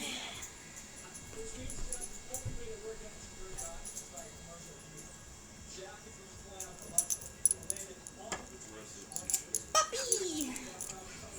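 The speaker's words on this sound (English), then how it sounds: "Puppy!" A puppy whimpers and yips in soft, scattered bursts at moderate distance, with a jingle like keys and people talking in a room nearby.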